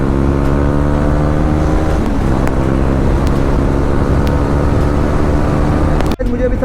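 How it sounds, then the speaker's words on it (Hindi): A fully modified KTM Duke 390 motorcycle engine pulling at full throttle, a loud, steady droning roar that shifts pitch around two seconds in and cuts off abruptly near the end, with wind noise throughout. "इतने दिनों के बाद अब थ्रॉटल आउट करने में बहुत मज़ा आ रहा है।"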